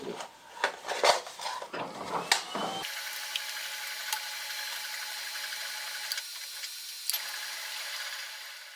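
Metal lathe running with the lead screw feed engaged while boring a valve pusher part, a steady whirring hum after a burst of clanks and metallic handling knocks at the start.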